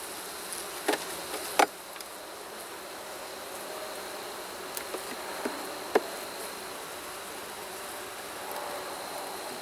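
Honey bees buzz steadily at an open hive being readied for winter while its frames are handled. The hum is faint and continuous, broken by a few sharp clicks and knocks of wood.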